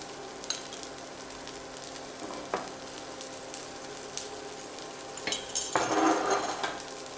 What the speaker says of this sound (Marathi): दुसऱ्या बाजूने सुद्धा आपण हे थालीपीठ जे आहे ते व्यवस्थित खरपूस भाजून घेणार आहोत.